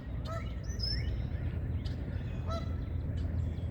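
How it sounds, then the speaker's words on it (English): A few Canada geese honk outdoors near a lake with melting ice, several short honking calls spaced irregularly over a constant low background rumble. "A couple Canadian honkers over there."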